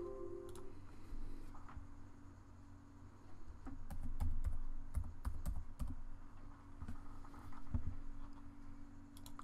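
Computer keyboard typing in a quiet room during embroidery software editing, scattered soft key ticks and small clusters of taps over a faint hum, fairly quiet and close.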